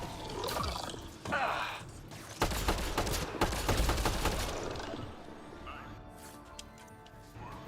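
Rapid bursts of gunfire crackle in a Mass Effect Andromeda firefight at a remnant site, dense volleys followed by scattered shots and fading rumbles.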